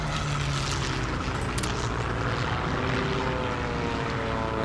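British bomber aircraft engines in the strategy video game Hearts of Iron 3, a loud, continuous propeller drone with steady low harmonic hum throughout.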